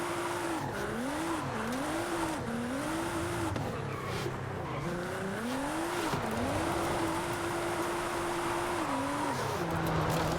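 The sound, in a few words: modified Nissan 350Z drifting in video game Forza Horizon 5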